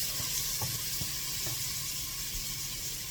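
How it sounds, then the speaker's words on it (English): About two tablespoons of crushed garlic sauté in a pan for spaghetti sauce, giving a constant, even hiss with a few faint clicks and knocks early on. "I'm going to saute that for about 30 seconds."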